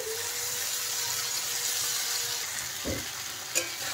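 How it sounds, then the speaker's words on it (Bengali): Spice paste is stirred and fried in oil for a fish curry with potato and cauliflower, a steady close sizzle with soft scraping stirs and a couple of brief knocks toward the end, no speech. "এখন ভালো করে কিন্তু মশলাটা কষিয়ে নিতে হবে।"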